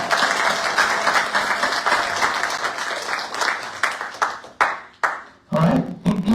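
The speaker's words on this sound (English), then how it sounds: "So round of applause." Audience applause at a retirement ceremony for an Army sergeant first class: dense clapping from a crowd that swells, thins out into scattered claps and stops around five seconds, with a brief burst and voices right after.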